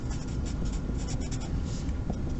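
Pen or marker writing notes on a surface during a chemistry lesson on oxidation numbers, a steady close scratchy stroking that runs continuously with no talk over it.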